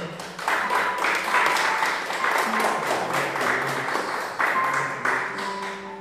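A church congregation claps continuously, a dense wash of applause rising and falling in waves, with faint tones ringing underneath.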